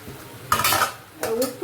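Crabs drop into a pan of ginger, garlic and capsicum in two bursts, each a sharp clatter and sizzle followed by stirring, against a quiet kitchen background.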